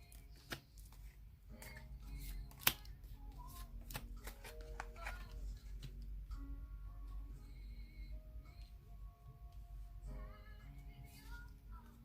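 Tarot cards being handled and laid down, heard as a series of soft shuffles, slaps and taps, faint and close, with brief light clicks in a quiet room.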